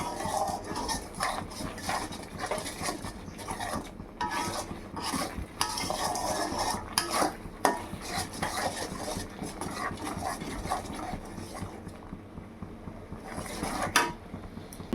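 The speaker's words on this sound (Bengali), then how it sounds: "তো এখন সব কিছু ভালো করে মিশিয়ে নেব, মশলাটাকে কষিয়ে নেব ভালো করে।" A spoon stirs and fries spice masala with salt in oil in a pan for a fish-head muri ghonto, irregular scraping and clinking against metal over a soft sizzle, close and moderately loud.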